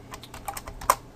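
A handful of quick keystrokes on a computer keyboard as a shell command is typed, light and close, ending in one sharper key press.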